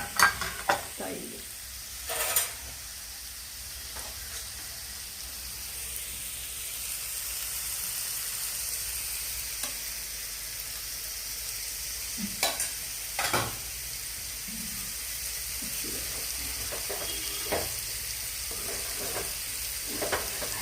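Dried shrimp frying in a pan for an egg and dried-shrimp aviyal lunch, a steady sizzle and hiss broken by occasional scraping stirs and clinks, with no talking.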